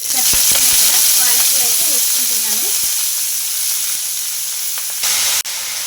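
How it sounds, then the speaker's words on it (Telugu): Spinach, green chillies and garlic fry in a pan with a loud, steady hiss and sizzle, broken by a few sharp stirring knocks; a voice is briefly heard early on, and the sizzle swells sharply near the end. "పాలకూర వేసుకున్న తర్వాత ఒకసారి బాగా కలిపేసుకొని ఈ పాలకూర ఫ్రై చేసుకుందామండి"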